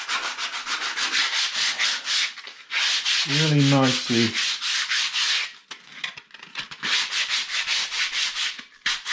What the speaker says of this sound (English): I've got my fine sandpaper here